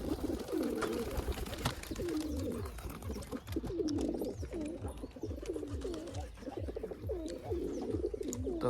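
Pigeons cooing close by in a village coop holding eggs, a steady run of repeated throaty coos overlapping one another throughout, with no talk.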